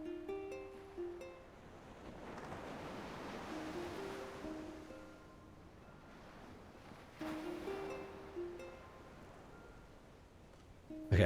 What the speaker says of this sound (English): drift off to the soothing sounds of the sea waves.